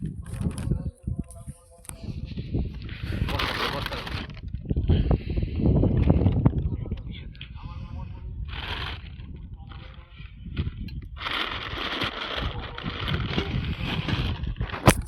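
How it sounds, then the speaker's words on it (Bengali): Strong wind sweeps across a wide, empty village field on a cold day, buffeting close to the microphone in gusty, rumbling surges that rise and ease throughout. "আজকে বাতাসটা টেনে যাচ্ছে, পুরো ফাঁকা মাঠ, বাতাসের পুরো টেনে যাচ্ছে।"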